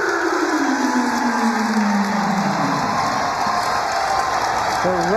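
A large crowd cheers and roars at a women's college basketball game, a loud sustained wash of noise with a whistle or horn-like tone. A commentator talks over it.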